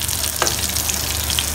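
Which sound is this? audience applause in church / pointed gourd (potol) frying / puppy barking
pointed gourd (potol) frying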